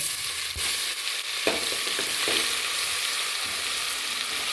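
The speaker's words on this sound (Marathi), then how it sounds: "छान जिरा चटकू द्यायचं हे बघा लसूण टाकून घ्यायचं" Cumin, garlic and ginger paste sizzle and crackle in hot oil, a loud steady frying hiss with a few sharp pops and stirring scrapes.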